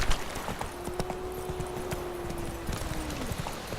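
Horse hooves gallop in The Witcher 3, a steady run of clip-clop hoofbeats close up under a sustained tone of game music.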